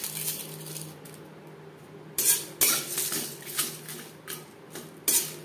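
Spices stirred in a hot pan over a low flame, a faint background hiss broken by scattered scraping and clinking of a metal utensil against the pan.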